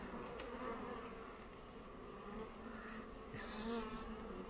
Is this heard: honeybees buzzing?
yes